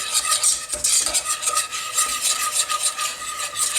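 Mac and cheese sauce being whisked and stirred in a pot, a continuous close scraping and swishing rhythm of utensil against metal with a soft bubbling sizzle underneath, no voices.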